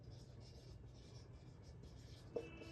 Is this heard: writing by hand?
yes